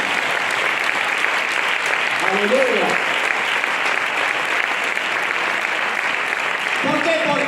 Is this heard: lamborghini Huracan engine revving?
no